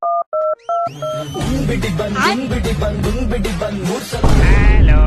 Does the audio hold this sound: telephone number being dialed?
yes